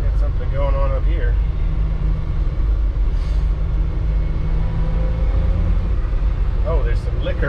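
A 1996 Suzuki kei truck cruises on the road at about 40, with a loud, steady low engine and road rumble throughout and brief voices over it.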